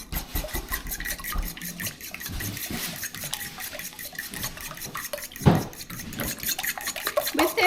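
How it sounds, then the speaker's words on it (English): Egg mixture seasoned with black pepper stirred in a bowl, a steady scraping and clinking of utensil against the dish that continues throughout, with one sharper knock partway through. "And then we're just going to give this a mix."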